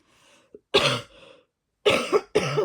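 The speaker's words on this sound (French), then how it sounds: "ça y est, je vais me mettre à tousser." A few sharp coughs come in quick succession near the microphone, separated by brief breaths and short silences.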